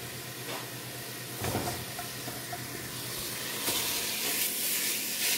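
Ground beef browns in a pan with a soft, continuous sizzle and hiss, a few faint clicks and stirring scrapes rising briefly over it, with no speech.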